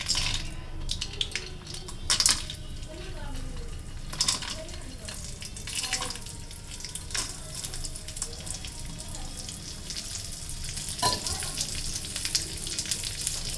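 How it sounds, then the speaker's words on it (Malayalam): Raisins frying in ghee in a pan, a soft continuous sizzle with faint stirring scrapes and occasional clatter, steady and close throughout. "കിസ്മിസ് ഒന്ന് വറുത്ത് കോരാം."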